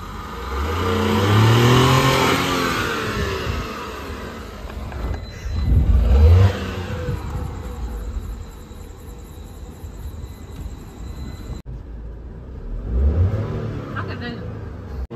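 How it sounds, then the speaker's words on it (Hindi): A Tata Punch car engine revs hard several times, rising in pitch and then falling off, with rumbling road noise and a high electronic whine in between. "आज ड्रिफ्टिंग होगी गाइस"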